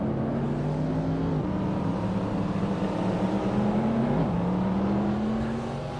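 Race car from a driving academy, number 69, running through Moss Corner at Canadian Tire Motorsport Park, a steady engine whine that dips as it shifts mid-corner and climbs again on exit, heard from onboard.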